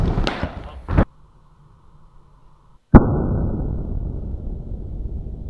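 A single sharp, loud gunshot crack that cuts off a tense stretch of near silence and leaves a lingering rumbling tail, with a few short voice sounds and knocks beforehand.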